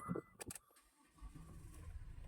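A used van's engine is cranked and starts with a brief burst of clicks and a catch, then settles into a quiet, low idle rumble close by.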